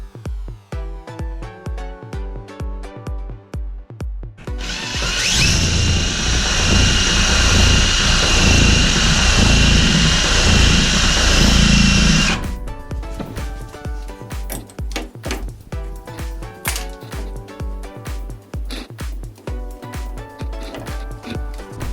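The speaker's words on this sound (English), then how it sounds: "So we're going to use the drill once again." A power drill resurfaces a dripping tap's valve seat, a steady loud whirring grind lasting about seven seconds, set between stretches of rhythmic background music.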